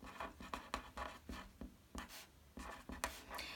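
Pencil writing a name label on a sheet of paper for a barometer scale project: close, soft scratching strokes in short irregular bursts with brief pauses between letters, quiet and alone.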